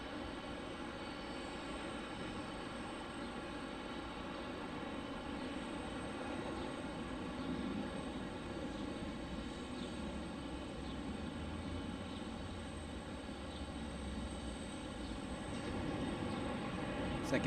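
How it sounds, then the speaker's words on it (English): Airbus A321 airliner at Detroit airport, a heavy full flight from San Juan, heard as a steady, fairly faint broadband jet roar that holds level throughout with no talk over it. "Here's the A321,"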